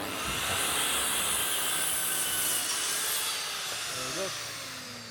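A conservatory box gutter end being cut by hand, a close, continuous rasping saw stroke with a faint mechanical whine behind it that tapers off near the end.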